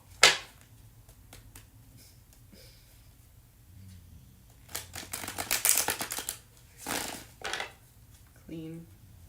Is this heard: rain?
no